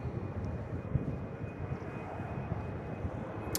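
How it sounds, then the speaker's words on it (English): A Finnair airliner takes off from Manchester Airport, its jet engines a distant, steady low roar that holds evenly throughout. "Finnair heading out to Helsinki."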